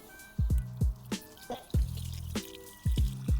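Water splashes and plops in a quick irregular series of distinct drops and pours as rice is washed for pilaf outdoors in a garden, close and fairly loud with no talking.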